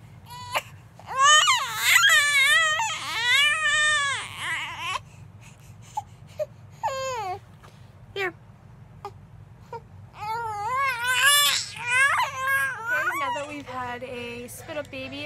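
A fussy three-month-old baby who keeps spitting up cries close by in repeated wailing bursts broken by whimpers and short pauses, over a low background hum.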